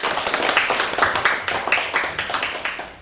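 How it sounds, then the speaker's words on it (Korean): Close, lively clapping from a room of residents at a neighborhood urban regeneration meeting in Dobong, Seoul, welcoming invited council members: quick, uneven overlapping claps throughout with no talking. "일단 박수로 좀 환영을 해주십시오."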